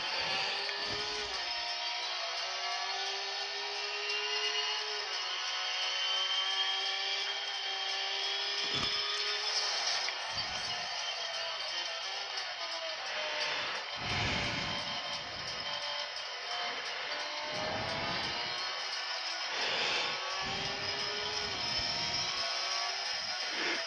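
Car engine revving in the Real Racing game played on a Lenovo Phab 2 tablet, a steady mid-loud whining drone through the whole span with repeated brief dips and surges, no voices over it.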